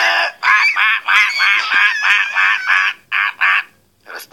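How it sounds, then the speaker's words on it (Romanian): Loud, nasal honking calls in a rapid run of about a dozen bursts, close and alone, from a duck or goose-like fowl in a comedy sketch. "Rață nebună!"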